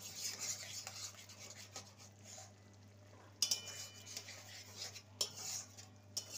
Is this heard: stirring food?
yes